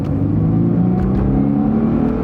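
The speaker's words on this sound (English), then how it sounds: "nice smooth acceleration." A Chrysler car accelerating smoothly from a green light, with a steady, loud engine hum and road rumble from inside the cabin that holds even and unbroken throughout, with no talking.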